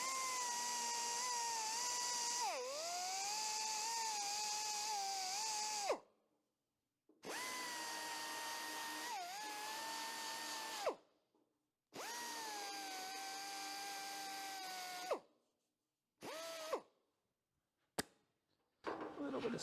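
An abrasive disc on a power tool smooths down metal during a rusty car door repair, grinding in three long steady bursts with pitch dips as it bites, then several short blips.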